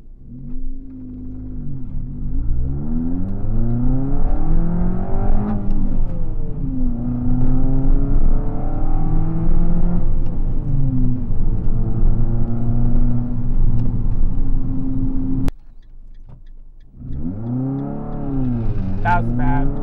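A 5-speed manual Fiat 500 accelerating from a standstill, the loud engine rising and falling through several gear shifts with a near-silent pause at a gap before revving again, with voices now and then over it.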